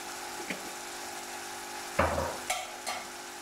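Green chillies and fenugreek frying in a pan for a desi fish masala, a low steady sizzle with a sharper burst of spitting hiss midway and a couple of brief stirring clatters after it.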